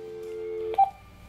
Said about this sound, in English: Oh, look at that dial tone.